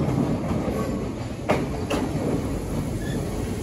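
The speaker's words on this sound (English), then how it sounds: "Coming up now, it's 315 815 terminating here at Enfield Town." A London Overground class 315 electric train rolls into Enfield Town station, a steady rumble of wheels with a couple of sharp clanks and faint squeals as it slows, no voices.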